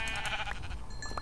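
Sheep bleating in a survival video game, a few short wavering calls close by and fairly clear over quiet game sounds.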